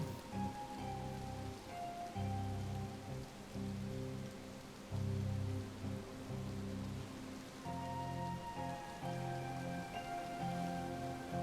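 Rain falls in the colony-building video game Colonize: Bermuda, a soft steady patter layered under droning, pulsing game music at a quiet level.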